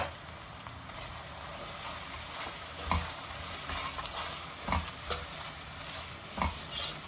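Ginger garlic paste and chili powder frying in a pan for Hyderabadi kheema, a continuous close sizzle with intermittent scraping stirs of a spoon against the pan.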